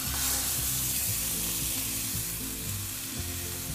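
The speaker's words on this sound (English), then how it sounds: "Leave the beef to sizzle for at least 2 minutes before you start to turn it round." Beef searing in a hot non-stick pan with oil, salt and pepper, a steady close sizzle and crackle of frying that holds evenly throughout, with no voices.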